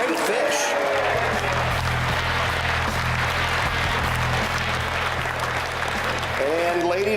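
Applause and crowd noise rise for the hourly winner at a Skeeter Bass Champs fishing tournament weigh-in, moderately loud over a steady low engine-like hum, with an amplified announcer's voice at the start and end.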